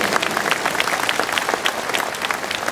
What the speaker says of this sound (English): Yeah, it's okay to clap.